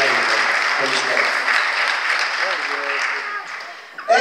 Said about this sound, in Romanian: Aplauze pentru ea